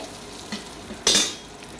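A pan of rohu fish curry with salt and green chilies is stirred once, giving a short, sharp scrape and sizzle burst over a faint, steady background hiss.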